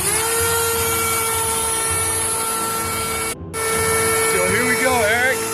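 An X-Carve CNC router carving a wooden sign with a small bit runs as a steady, dense whine with layered tonal hum, briefly cutting out once, while a voice talks over the machine noise.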